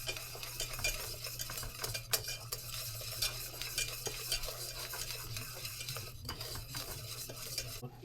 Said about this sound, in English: We'll whisk this in now.